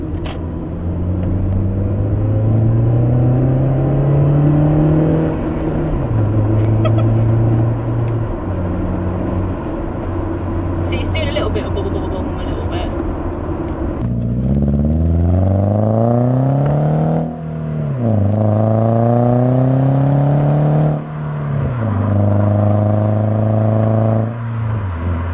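A Toyota Avensis SR fitted with a custom exhaust revs repeatedly, its engine note climbing and falling in several rising sweeps before settling back to a low idle, loud and close with no talk.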